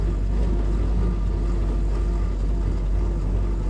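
A Willys jeep climbs a steep off-road trail with a continuous low engine rumble and broadband road and wind noise that stays loud and even throughout.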